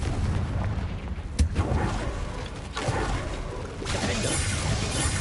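Confringo, an explosive fire spell in the video game Hogwarts Legacy, goes off with a rough, booming roar and a sharp crack near the start. A dense, rumbling wash of blast noise continues steadily throughout, with no voices.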